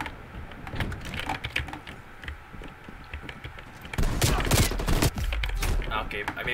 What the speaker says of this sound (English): maybe I shouldn't have shotgunned that one